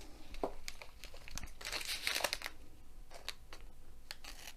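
Crinkling and snipping of plastic packaging being cut open with scissors, close and fairly quiet, in short bursts with brief pauses.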